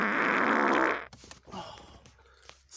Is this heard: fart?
yes